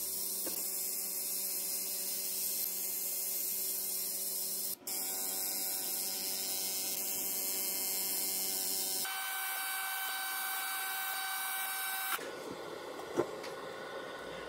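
ComMarker B4 fiber laser cleaning rust off mild steel tubing, a steady electronic hum and high whine that shifts pitch in several abrupt stages, with no talking.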